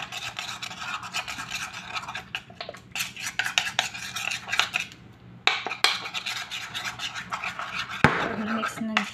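A lemon face mixture is stirred in a small bowl, with rapid scraping and clinking of a spoon against the bowl in uneven bursts and a short pause midway.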